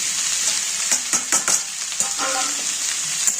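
Paneer and vegetables frying in a pan for chilli paneer, a steady close sizzle broken by several sharp scrapes and clinks of stirring, with no voices.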